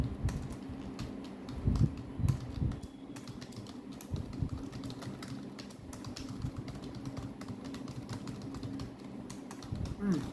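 Typing on a computer keyboard while writing a document in Microsoft Word: a steady run of close, quick key clicks with irregular rhythm and a few heavier taps, under a faint room background.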